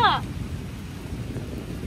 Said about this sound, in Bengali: বাবা মেঘের গর্জন শুনেছ?